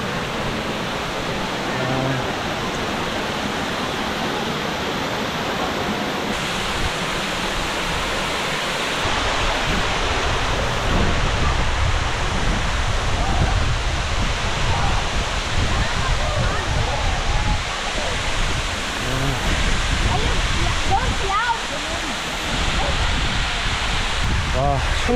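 A waterfall in the Philippines gives off a continuous, loud, close roar of falling water, a dense steady wash that holds through the whole stretch and thickens slightly partway in.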